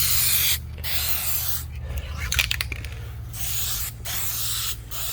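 A rattle can sprays paint on a 1985 C4 Corvette in steady hissing bursts, several long sprays separated by brief pauses, close and fairly loud over a low background hum.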